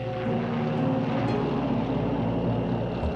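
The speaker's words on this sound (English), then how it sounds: "A plane flies in low" A low-flying transport plane drones steadily and loudly overhead, a continuous propeller engine rumble with no voices.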